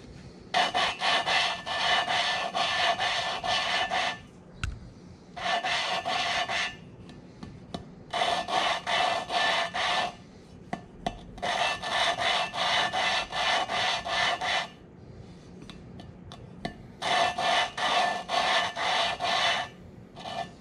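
An engine valve is lapped against its seat with grit using a suction cup tool, giving repeated gritty rasping strokes in bursts of a second or more, separated by short pauses and light taps, close and clear.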